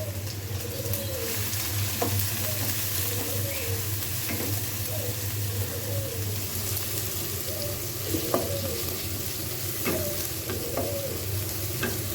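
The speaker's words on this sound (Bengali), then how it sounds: "তেল দিয়ে দিয়েছি বিসমিল্লা বলে দিয়ে দিচ্ছি পেঁয়াজ আর কাঁচামরিচ কুচি" Chopped onion and green chili frying in oil in a wok, with a steady close sizzle and repeated spatula scrapes and taps at irregular intervals, while birds call faintly in the background.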